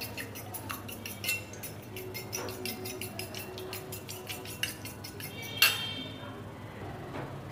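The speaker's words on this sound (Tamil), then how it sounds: "ஒரு முட்டை சேர்த்துட்டு இதை நல்லா பீட் பண்ணிக்கலாம்." An egg being beaten in a bowl for coating cheese balls: a rapid, steady run of light whisking taps against the bowl, fairly quiet with a low background hum, a louder clink near the end, then a brief pause.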